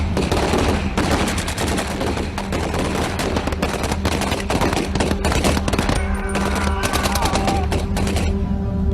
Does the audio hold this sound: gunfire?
yes